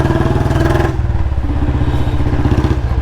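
Royal Enfield Bullet Standard 350 motorcycle idling and revving, its single-cylinder engine and exhaust thumping in a steady loud rhythm close by, with a shift to a lower, throatier beat partway through.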